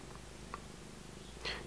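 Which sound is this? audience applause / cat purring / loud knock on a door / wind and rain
cat purring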